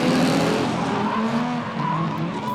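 A Hi-Tec 350 race car screams around the top of the track, its engine a loud, sustained whine shifting in pitch as it passes, with tyre noise and no commentary over it.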